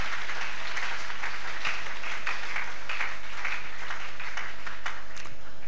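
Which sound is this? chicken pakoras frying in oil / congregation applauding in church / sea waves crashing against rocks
congregation applauding in church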